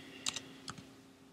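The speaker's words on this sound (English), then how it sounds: "And here we'll type router ID. And we'll type in network." Keyboard typing while entering router configuration commands: a few quick, crisp key clicks in two small bursts, close and fairly faint, with no voices over them.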